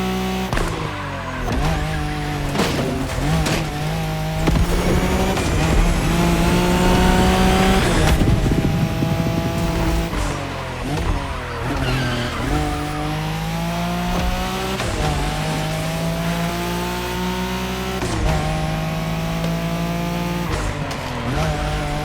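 Racing car engines in The Crew Motorfest during a high-speed Wangan race along Tokyo's Bayshore route, roaring loud and close with rising and falling revs and bursts of tire squeal, continuous and without talk.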